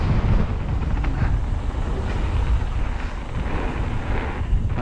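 Strong wind buffets the microphone while a bike is ridden into a headwind, a loud, continuous low roar with gusty fluctuations throughout and no talking.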